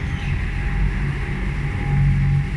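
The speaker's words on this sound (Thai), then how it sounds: "เรือยาวกำลังมาเทียบท่าครับ" A long-tail boat pulls in to dock at the Nonthaburi pier on the river, its steady low engine drone and rumble continuous and fairly loud throughout.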